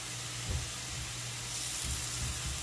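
Ginger sizzles in about a tablespoon and a half of melted butter, a steady close hiss with soft bubbling low pops throughout, no voices over it.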